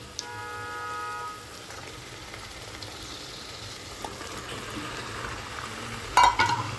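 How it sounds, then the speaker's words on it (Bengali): Mutton pieces dropped into well-fried spiced masala for kosha mangsho, giving a continuous, moderate sizzle and frying hiss with a few stirring clinks near the end. "এবার এর মধ্যে আমি মাটনের টুকরোগুলি দিয়ে দিচ্ছি।"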